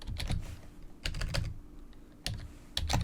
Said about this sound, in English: My typing skills are legendary.